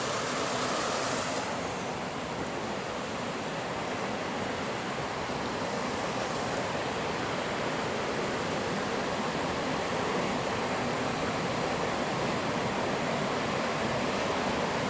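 Waterfalls at an abandoned Japanese onsen resort give a steady, unbroken roar of falling water, broad and constant throughout with no voices.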